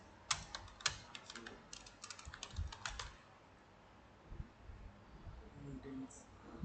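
Text is typed on a computer keyboard in quick bursts of close, crisp key clicks, then a pause with a few scattered taps, under soft talking.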